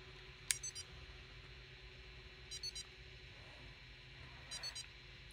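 A Tile Mate 2022 Bluetooth tracker ringing after a double tap, sounding three faint short bursts of high chirping tones spaced about two seconds apart over a quiet room hiss.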